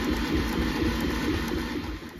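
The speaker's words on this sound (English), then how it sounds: "And here's the printer printing." A Bambu Lab A1 Mini 3D printer runs a fast print job, giving a steady, dense mechanical whir and hum that stays close and continuous before easing slightly at the end.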